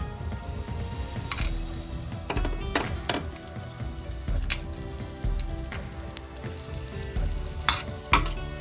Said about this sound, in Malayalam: ഈ നെയ്യിലേക്ക് റേസിൻസ് ഇട്ടിട്ടൊന്ന് മൂപ്പിച്ചെടുക്കാം